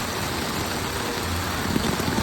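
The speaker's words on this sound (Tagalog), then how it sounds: "At sana tumigil na yung ulan." Steady, dense hiss of rain pouring down, loud and continuous throughout with no talking.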